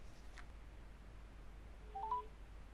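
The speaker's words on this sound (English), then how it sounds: "I am going to start a call to myself." Outgoing call being placed from a smartphone app, with a few faint short dial tones and beeps near the end over a quiet background hiss.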